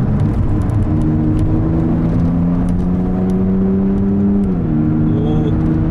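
Mercedes-Benz SLC 43 AMG roadster engine pulling steadily under acceleration, a loud continuous drone whose pitch climbs gradually, dips briefly near the end as if on a gear change, then carries on, heard from inside the car.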